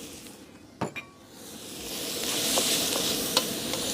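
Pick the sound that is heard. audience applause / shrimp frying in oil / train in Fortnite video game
shrimp frying in oil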